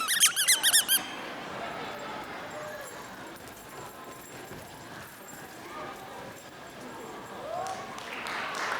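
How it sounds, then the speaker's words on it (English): A squeaky toy squeezed several times in quick succession, producing sharp, bright squeaks near the start at a high school graduation ceremony, followed by crowd murmur and hall ambience. "This is a squeaky toy."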